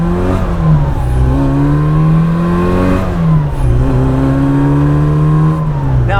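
A 1966 Austin Mini Cooper S with a stock 1300 engine, good carburetor and good exhaust revs up loudly and close by, climbing in pitch twice with a brief drop between, with no voices.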